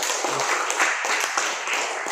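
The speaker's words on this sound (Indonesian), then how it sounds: "Tepuk tangan dulu." An audience at a vocational school opening ceremony in Nabire claps steadily, a dense, fairly close wash of applause lasting the whole moment.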